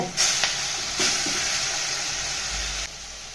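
Fenugreek leaves sizzle in hot oil with garlic in a pan, a steady close broadband hiss with a few stirring scrapes and bursts, no talk.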